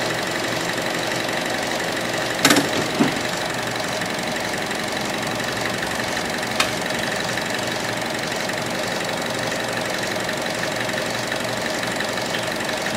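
The engine of a 2014 Buick Encore runs at a steady idle during a transmission flush, a constant close hum with a couple of brief clunks early on.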